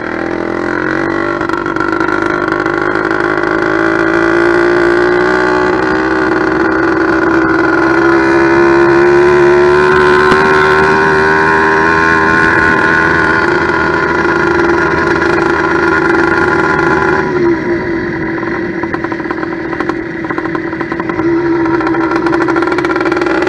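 A freshly built 100cc steel-bore motorized bicycle engine runs loud and close after its first start, a raspy two-stroke-like buzz that swells in revs, then settles lower, with no talk.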